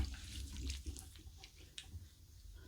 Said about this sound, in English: I'm going to rinse off, see where we're at.